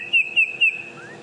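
Three short, bright chirped notes from a bird's display call, evenly spaced and close, followed by a softer rising whistle, no voices.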